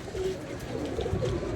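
Pigeons coo softly in short, low, rolling murmurs, nearby but fairly quiet, with no speech over them.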